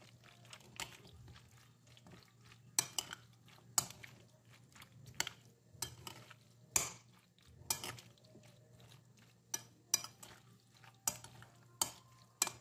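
Macaroni pasta salad with creamy dressing is mixed in a bowl, giving soft wet squelches and sharp utensil clicks in an irregular rhythm, close and fairly quiet over a low steady hum.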